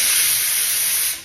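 Steam hisses steadily from a pressure cooker cooking rice in a home kitchen, a loud, bright, continuous jet that holds for over a second before tapering off.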